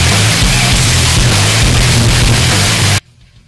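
Loud, dense intro music from the Dragon Ball Xenoverse 2 video game, a blaring wall of sound with heavy low-end pulses that plays steadily for three seconds, then cuts off abruptly into near silence.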